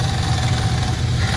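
A Ram 1500 pickup with the 5.7 Hemi V8, which has a timing chain rattle, runs at a steady idle with a close, even low rumble and no voices.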